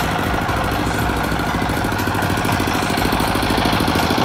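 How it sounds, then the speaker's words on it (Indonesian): A generator set for a rental sound system runs continuously, a steady mechanical engine drone with a fast even chug, heard alone at moderate loudness without any talk. "Kita review gensetnya dulu lur ya."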